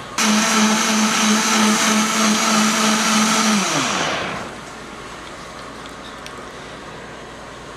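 Blender whirring a raw vegan herb sauce with oregano, a loud high motor whine for about four seconds that winds down as it shuts off, followed by faint room noise.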